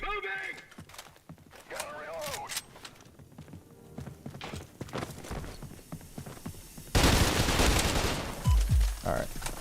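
Gunfire in the first-person shooter Trepang 2, with scattered shots and a dense burst of rapid fire near the end, mixed with game effects and a voice talking over it.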